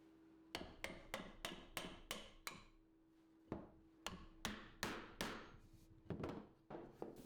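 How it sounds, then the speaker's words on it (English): A glued wooden dowel is tapped down into a hole in a folding camping stool, producing a close run of sharp wooden taps in two quick series separated by a short pause. "the dowel goes down into place and tapped into the bottom hole"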